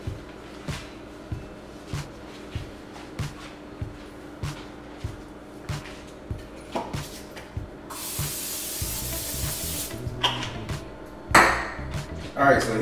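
A sustained hiss of cooking oil spray onto a pan lasting a couple of seconds, following repeated light knocks and clatter, with a brief sizzle-like burst afterward.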